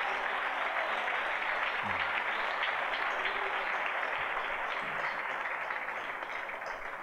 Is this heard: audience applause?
yes